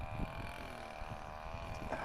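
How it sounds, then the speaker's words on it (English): A string trimmer runs in the background at a campsite in Devon, a faint, steady engine whine carried under wind rumble. "One of the wardens is doing some strimming around the permanent"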